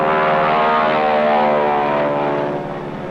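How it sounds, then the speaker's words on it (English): Converted World War II fighter and bomber planes fly wildfire missions, dropping flame-killing chemicals. Their propeller engines make a loud, steady drone that fades slightly at the end, with no voices. "pilots fly converted World War II fighters and bombers"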